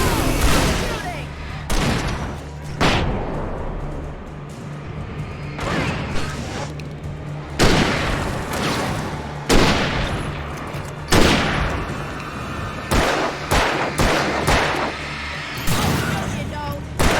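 Gunfire in the video game Alan Wake Remastered, repeated loud shots and short bursts spaced irregularly across the scene, with voices talking between them.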